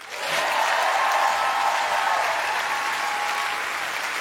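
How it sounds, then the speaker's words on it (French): A French comedy-show audience gives a performer a thunderous round of applause, dense and full from the start and fading only slightly as it continues. "Faites un tonnerre d'applaudissements à Jarry!"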